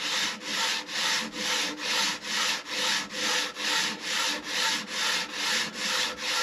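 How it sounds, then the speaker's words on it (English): Three wooden guitar braces held together and sanded by hand in steady back-and-forth strokes, a regular rasping rhythm of about two strokes per second, close and clear with no talking. "I just have three braces and I can hold them all together like this and sand them at the same time"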